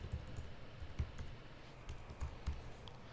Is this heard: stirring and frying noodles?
no